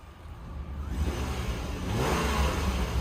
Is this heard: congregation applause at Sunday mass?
no